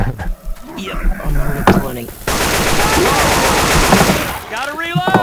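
A sustained, loud burst of automatic gunfire in Left 4 Dead 2 rattles for about two seconds, preceded and followed by players talking and game chatter.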